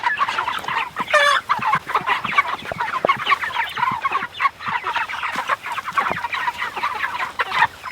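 Several broiler chickens, Red Rangers and Cornish crosses, cluck and chatter close by, a busy, continuous patter of short calls with one brief higher squawk.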